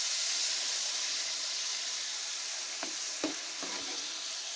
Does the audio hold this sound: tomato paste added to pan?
yes